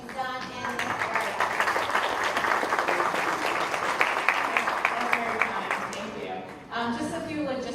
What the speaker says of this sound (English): Please join me in giving her a huge round of applause